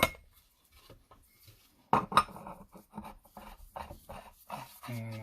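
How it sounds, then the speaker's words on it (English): A 1 inch by 12 inch pipe being screwed into a fitting on a DIY rotating Christmas tree village stand, heard as close, scattered metallic clinks and scrapes in short bursts. "And that just screws in like that."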